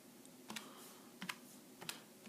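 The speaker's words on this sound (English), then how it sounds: "if we type that into the calculator" Calculator buttons pressed in a few quick clicks, three small clusters of taps spaced about half a second apart, close and fairly quiet with no talking.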